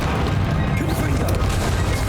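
A Confringo blasting-spell explosion in the Hogwarts Legacy video game, a heavy booming blast with a rumbling low tail lasting about two seconds, loud and close.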